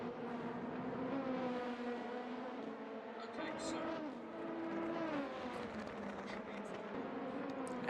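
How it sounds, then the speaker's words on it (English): A race car engine in a racing video game set at the Hungaroring circuit hums with a steady, layered harmonic drone that rises and falls slightly throughout, staying continuous and fairly close. "Yeah, I added the engine sound."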